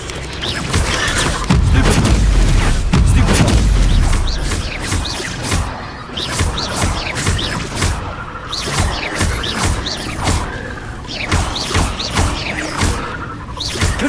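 Repeated fiery blast spells fired during combat in Hogwarts Legacy, a heavy booming burst early on followed by a rapid run of sharp crackling impacts and thuds, loud and busy with game action.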